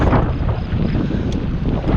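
Strong headwind buffeting the microphone while cycling, a loud, constant low rumble filling the clip with no voices.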